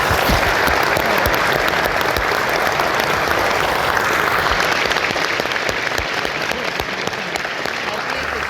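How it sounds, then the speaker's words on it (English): Loud, sustained applause from a concert audience fills the hall as a symphony orchestra finishes a piece, dense clapping continuing steadily throughout without a break. "As the piece ends, Maryna sits up straight and claps loudly"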